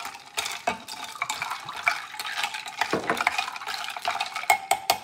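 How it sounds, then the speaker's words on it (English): A green apple Moscow mule cocktail being stirred, a few seconds of close clinking and scraping of a spoon against the glass with ice, irregular taps and swirls, no voices. "We give this a little bit of a stir. Just to make sure everybody's combined."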